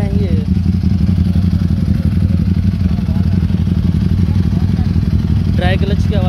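A Ducati Streetfighter SP idles close by, its low engine rumble steady and loud, with a fast, dry metallic rattle from the dry clutch ticking over it, and voices in the background.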